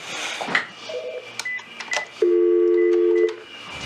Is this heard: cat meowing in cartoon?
no